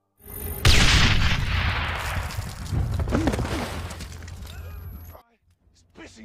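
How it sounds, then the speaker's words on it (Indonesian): A loud, sudden bomb blast explodes, followed by a long rumbling roar with scattered crackling debris that fades out after several seconds. "Seketika bom itu pun meledak dan menghempaskan para anggota tim."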